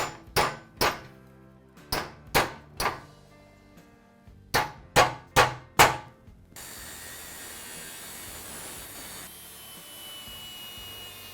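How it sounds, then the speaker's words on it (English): A hammer strikes a metal tab on a Harley-Davidson gasbox horseshoe oil tank in sharp, ringing blows, two quick bursts of about five hits each, followed by a steady grinding or rubbing noise. "Whack this out of place and get a better cut on it."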